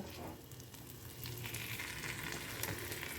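Bombay duck fish fries in a pan while it is gently stirred, a quiet steady sizzle with faint scraping underneath and no voices.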